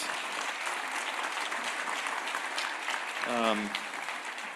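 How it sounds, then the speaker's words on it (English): Steady applause from an audience fills the whole stretch, dense clapping with a brief tonal voice rising near the end. "let's start with a round of applause for our two guest speakers"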